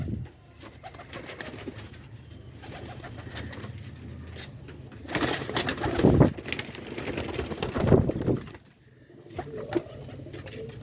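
Pigeons coo softly in low, rolling calls with some wing flapping, fairly close and steady, with no voices over them.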